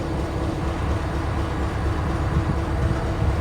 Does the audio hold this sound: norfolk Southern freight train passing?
yes